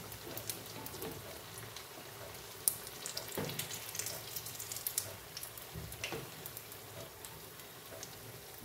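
Raw banana slices frying in oil give a steady, dense sizzle with scattered crackles and pops, close and moderately loud, continuing throughout with no voices.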